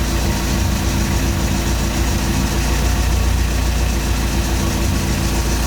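A Minute 56 portable air compressor runs while inflating a big tire, a loud, steady, unbroken motor drone and hum from close by, with no talk.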